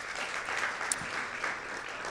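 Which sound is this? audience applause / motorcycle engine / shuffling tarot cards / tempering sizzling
audience applause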